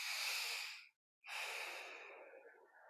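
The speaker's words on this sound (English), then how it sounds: "let yourself begin to breathe deeply." Two deep, slow breaths during a quiet yoga practice, heard close and soft: a long airy exhale, a brief silence, then another drawn-out breath that gradually fades.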